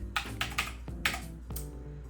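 Several quick bursts of key clicks on a computer keyboard while setting up a Mac mini, irregular and close, heard alone over a low steady background hum.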